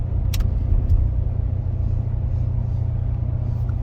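A supercar engine pulls out of a driveway and shifts up into second gear, a loud, steady low rumble held close throughout with no talk over it.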